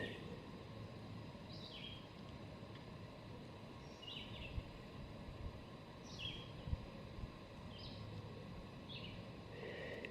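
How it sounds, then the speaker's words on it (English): Small birds chirping in short repeated bursts on a burnt mountain trail in Shenandoah National Park, fairly distant over a steady rushing wind. "I hear the wind, I hear some birds."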